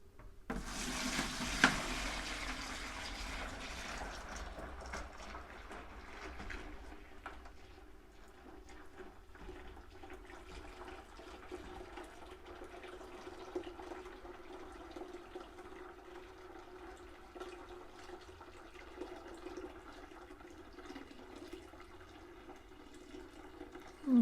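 Cooled beer wort pours steadily into a container in a continuous, soft gurgling stream, with a brief louder splash at the start, close by and without voices.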